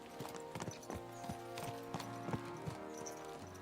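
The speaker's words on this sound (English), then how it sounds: "Let's really spur these horses on, eh?" Horses gallop in the medieval game Kingdom Come, with steady clip-clop hoofbeats drumming close and loud over a constant ambient music bed, and a whinny slipping in now and then.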